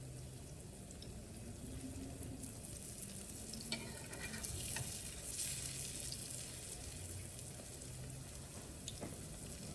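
Akara bean cakes frying in hot oil, a continuous soft sizzle and bubbling crackle with occasional small pops, steady and fairly quiet with no voices.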